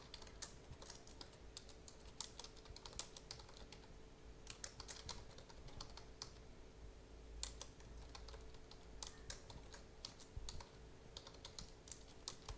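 Quiet, irregular keystrokes on a computer keyboard as a SQL select query is typed, with close clicks in short bursts and pauses and no talking.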